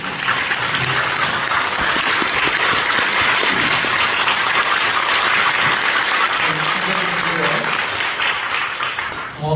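Sustained, loud applause from a standing church congregation at a Korean thanksgiving service honoring a retiring senior pastor, steady and dense throughout, with some voices murmuring underneath.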